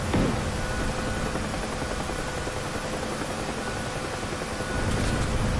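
Helicopter in the flight combat simulator DCS World, a steady loud rotor and turbine roar filling the whole stretch with little change, heard alone without talk.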